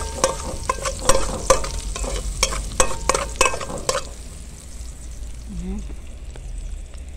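Garlic frying and being stirred in a pan while preparing a sauce for winter canned fried vegetables, with a steady close sizzle and clattering stir strokes for about four seconds, then a quieter sizzle alone.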